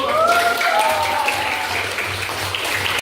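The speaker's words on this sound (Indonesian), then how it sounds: "Boleh tepuk tangan." A crowd of students and teachers claps steadily in a dense, continuous wash of applause at a school class event that stops abruptly after a few seconds.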